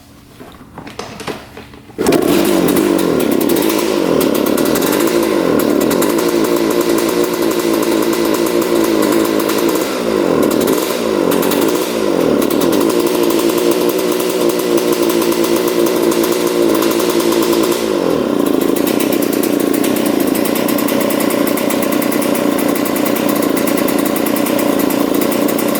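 A dirt bike engine catches after a brief cranking sputter, then runs loud and close, revving up and down in repeated swells before settling into a steady high idle.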